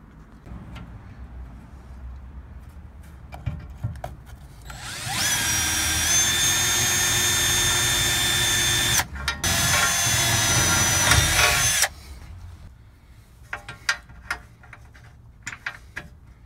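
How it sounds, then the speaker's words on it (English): A power drill bores pilot holes into a trailer frame rail for mounting a lift shock bracket, running loud and steady for about seven seconds with a brief pause, amid quieter clicks and handling noises before and after. "we're gonna drill in a couple of pilot holes"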